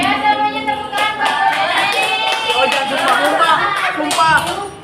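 Classroom full of students clapping hands together during a practice teaching lesson, a dense steady patter of claps mixed with chatter and overlapping voices throughout.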